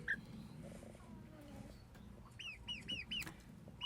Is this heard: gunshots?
no